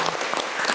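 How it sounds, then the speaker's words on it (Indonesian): An audience applauds the Perbasi Garut basketball team, a dense, steady wash of many hands clapping at close range throughout. "Tepuk tangan untuk Perbasi Garut."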